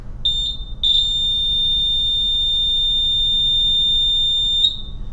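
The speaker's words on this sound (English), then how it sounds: "pay attention to the frequency or the pitch of this buzzer" An electronic buzzer sounds a loud, steady high-pitched tone, starting with two short beeps before holding one continuous note at unchanging pitch, alone with no talking.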